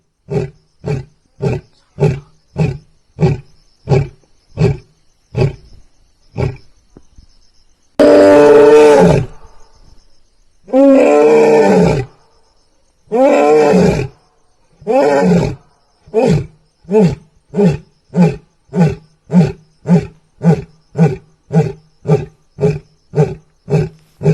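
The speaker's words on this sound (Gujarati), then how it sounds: "સીમ વિસ્તારમાં સિંહ હોવાનો વિડીયો વાયરલ થયો છે" A lion roars loudly and close by: a long run of rhythmic grunting pulses, a few drawn-out full roars in the middle, then more grunts trailing off.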